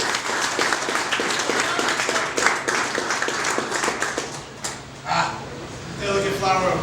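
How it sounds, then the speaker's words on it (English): A crowd's round of applause for the man of the match at a football club gathering carries on steadily throughout, dense clapping with a roomy, mid-distance feel and some voices mixed in. "round of applause for John Murray."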